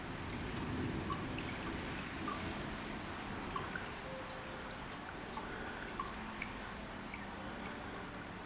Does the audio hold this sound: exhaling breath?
no